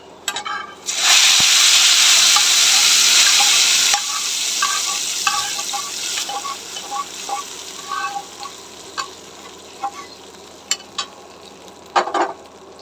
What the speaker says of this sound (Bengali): বাগারের আমার রসুন জিরে আর শুকনো মরিচটা ভাজা হয়ে গেছে নামিয়ে নেব বাগারটা আমি এখানে দিয়ে দেবো